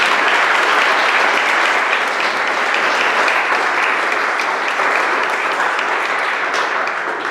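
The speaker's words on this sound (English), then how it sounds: "let's give them all a round of applause." An audience claps steadily at a spring athletic awards ceremony, dense sustained applause filling a room with no break.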